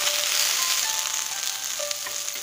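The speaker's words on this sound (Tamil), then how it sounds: "அடுத்து முட்டைக்கோஸ் போட்டாச்சு. நல்லா வணக்கலாம்." Cabbage and other vegetables sauté in a pan for a rice dosai, a close, steady sizzling crackle with faint stirring, continuous and fairly loud, no voices.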